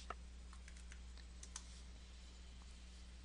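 Light, scattered keystrokes tap on a computer keyboard while grades are entered into a spreadsheet, soft and close over a steady low hum, with no talking.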